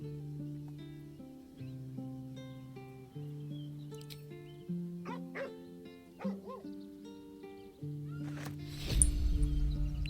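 A dog in the video game Baldur's Gate 3 gives a few soft barks and whimpers over a quiet sustained music bed, with a brief louder burst near the end.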